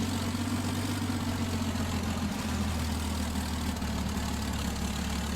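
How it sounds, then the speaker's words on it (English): A WWII-era airplane engine runs steadily at a low idle on the ground, a continuous deep drone with a throbbing low rumble, loud and close throughout with no talk. "You can hear those engine noises."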